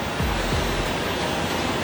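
A sump pump in a wash bay recovery pit moves wash water with a steady, loud rushing wash of noise that holds evenly throughout, close by and with no voices.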